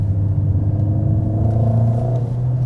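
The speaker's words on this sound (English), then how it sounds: "Also some blubbering sound from the exhaust." Mercedes-AMG GLA 45 S from 2021, 421 hp, climbing uphill, its exhaust giving a steady low burbling rumble, loud and close, with no talking over it.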